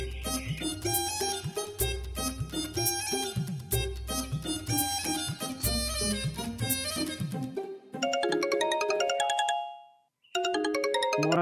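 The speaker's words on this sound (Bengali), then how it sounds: "ফোন দিছে" A mobile phone ringtone for an incoming call, a loud melodic electronic tune repeating in bright tonal phrases, briefly cutting out near the end before resuming.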